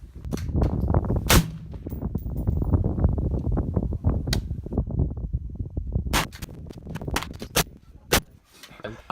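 A Sig MCX 5.56 rifle with a 16-inch barrel fires IMI 77 grain ammunition outdoors, with several sharp, loud cracks spaced irregularly and a cluster of shots near the end.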